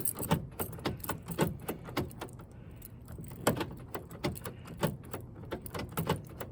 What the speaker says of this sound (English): and then just lock and unlock the door a few times